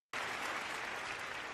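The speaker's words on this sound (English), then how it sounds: "Since you clapped, I'll clap." An audience bursts into clapping after a brief silence, a dense, even wash of applause from many hands that holds steady to the end.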